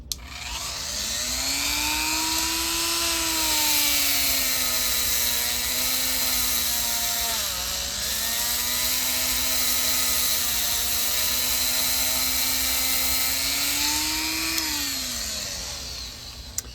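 A whiz wheel power tool scrubbing a roller, a steady high-pitched whine held for about sixteen seconds, close and continuous, with slight dips in pitch as it loads against the surface.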